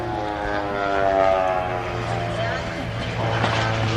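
A home-built propeller plane drones steadily past at an airshow, a moderately loud, sustained engine hum with a slowly shifting pitch, while someone talks over it.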